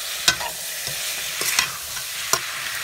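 Chicken for a Nepali village-style curry fries in a pan with a steady close sizzle, broken by several sharp scraping clatters as the pieces are stirred, with no talking.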